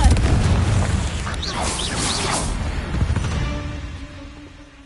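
A Confringo blasting spell from the video game Hogwarts Legacy goes off in a loud, dense boom that rumbles for several seconds before trailing away into a quieter fading tail.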